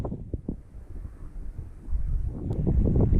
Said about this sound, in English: And now it's so windy, man